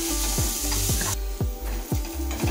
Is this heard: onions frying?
yes